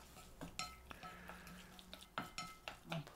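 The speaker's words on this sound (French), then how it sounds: "Mélanger bien." Pork and green bean filling stirred in a bowl, a spoon scraping and clinking against the sides in quick irregular strokes, close and quiet.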